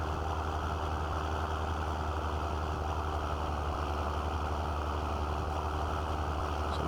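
John Deere tractor engine runs in Farming Simulator 22, a steady low droning hum that holds constant and unbroken, alone without speech.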